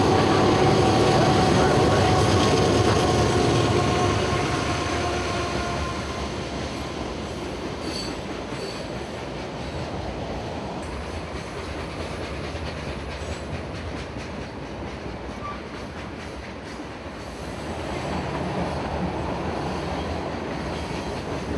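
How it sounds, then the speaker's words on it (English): A solid freight train of sulfur rolls past, loud at first, then a steady rumble of wagons with wheel clatter and occasional squeal fading slightly, with faint talk in the background. "A solid train of sulfur to the Bone Valley."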